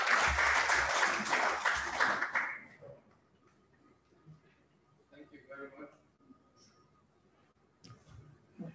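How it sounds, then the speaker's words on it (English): Audience applause at a public accountability-index presentation, a dense burst of clapping that fades out after a couple of seconds, followed by quieter room sound with some talking. "A round of applause for him"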